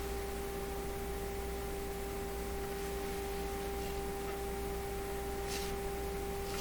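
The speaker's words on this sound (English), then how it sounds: "I like to hear a little bit of hiss, so I know I'm not pounding too much of a signal in here." Steady broadband radio static hiss from a Nordmende Turandot tube radio during AM and FM IF alignment, constant and fairly faint, with a couple of steady tones humming underneath and no voices.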